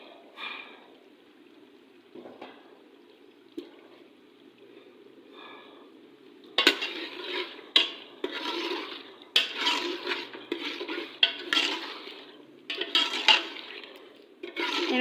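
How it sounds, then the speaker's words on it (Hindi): Potatoes with spices being stirred in a pan for dhaba-style aloo gobi, starting with a faint sizzle and then shifting to louder, close scraping and clatter of a spoon against the pan, with no talking. "इनको थोड़ी देर भून लेते हैं"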